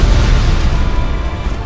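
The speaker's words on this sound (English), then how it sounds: "One big explosion." A big explosion in the Knack video game, a dense, loud, rumbling roar that fills the whole moment and stays heavy in the low end without a clear sharp onset.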